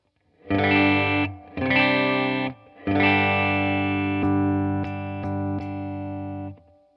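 Distorted chords on a Yamaha Revstar electric guitar with its focus boost switch on ring out in three loud bursts, then sustain with a few sharp accents, thick and boosted, no talking.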